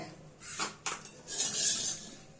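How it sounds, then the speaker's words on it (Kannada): A few clattering knocks of a utensil against a pot, then a scraping sweep as thick ground-lentil masala vada batter is moved into a container, close by with no talking. "ಒಂದು ಪಾತ್ರೆಗೆ ಟ್ರಾನ್ಸ್ಫರ್ ಮಾಡ್ಕೊಂತ ಇದ್ದೀನಿ"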